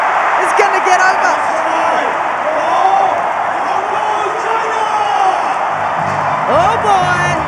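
A packed stadium crowd roars and cheers steadily at a women's rugby final between Hong Kong China and Kazakhstan at Melrose, a loud continuous wash of whoops and shouts with excited voices rising above it.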